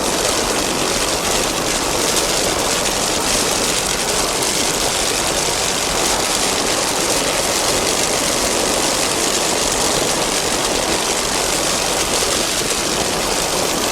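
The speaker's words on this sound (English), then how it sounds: "Extractor powered by two 750 horsepower MRD industry inboards with Mercruiser drives." Racing powerboat with two 750 hp inboard engines and Mercruiser drives at the Key West World Championships, a steady loud roar and drone that holds unbroken throughout, with no talk.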